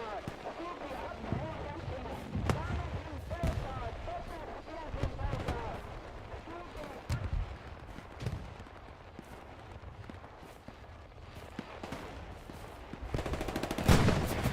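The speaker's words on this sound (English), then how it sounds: "So you hear these shots over here?" Video game gunshots pop in scattered bursts and single cracks, some sharp and close, others more distant, layered with game ambience and a person talking.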